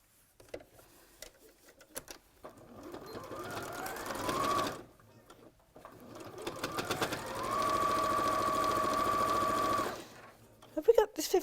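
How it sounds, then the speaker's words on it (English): A sewing machine runs down the side of a fabric bag in two bursts, a short one and a longer steady one, with a few quiet pauses and handling noises between. "So I'm going to sew that all the way down."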